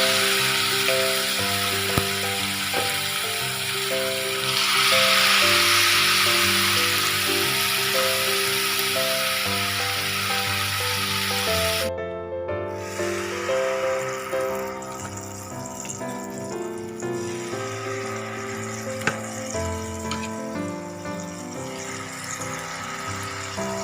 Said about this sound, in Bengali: এবার আমি সাদা তেল দিয়ে ভাজবো